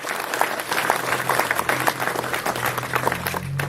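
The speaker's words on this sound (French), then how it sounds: "Xavier, vous pouvez l'applaudir." A crowd at the inauguration of Xavier Beck's office applauds him with steady, dense clapping from many hands at moderate distance, over a low room hum.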